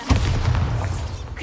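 A Bombarda explosion spell in Hogwarts Legacy goes off as a single deep boom, followed by a rumbling low tail that gradually fades.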